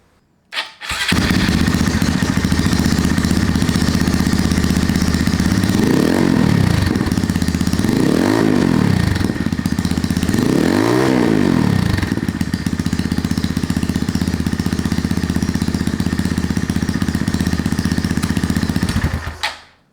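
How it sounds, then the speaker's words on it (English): A Honda Monkey or Grom mini motorcycle with an open exhaust idles loudly and blips its throttle three times, each rev rising sharply and falling back to a rough, popping idle. "the sound of that exhaust is awesome"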